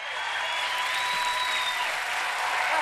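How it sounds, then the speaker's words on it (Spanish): Studio audience applauding for basketball player Michael Jordan on a television show, a steady, dense wash of clapping at close range that holds evenly throughout with no talk over it. "Un aplauso para Michael Jordan."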